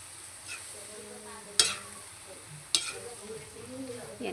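Chopped pork entrails for bopis are stirred in a pan with a faint sizzle beneath, and two sharp utensil scrapes or clacks ring out clearly against the quiet frying.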